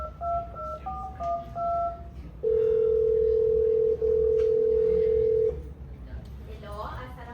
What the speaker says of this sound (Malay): Mak Limah membuat panggilan telefon kepada Madam Suzy